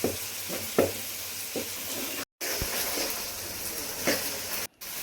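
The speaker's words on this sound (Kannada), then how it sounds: "ನಂತರ ಶುಂಠಿ ಬೆಳ್ಳುಳ್ಳಿ ಪೇಸ್ಟ್ ಹಾಕಿಕೊಂಡು ಚೆನ್ನಾಗಿ ಫ್ರೈ ಮಾಡೋಣ." Ginger-garlic paste fries with onions in a pan, sizzling steadily, while a spoon stirs and scrapes with periodic thumps and two brief silent cuts.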